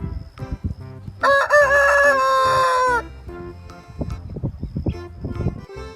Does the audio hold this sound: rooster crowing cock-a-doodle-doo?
yes